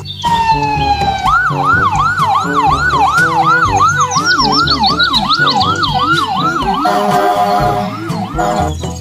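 A toy ambulance siren wails loudly and up close in a rapid, repeating rise-and-fall pattern, with a second higher electronic tone joining partway through; no talk is heard.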